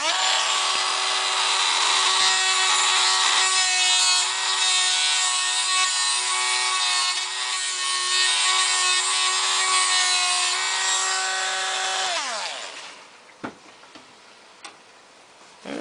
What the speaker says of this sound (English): Dremel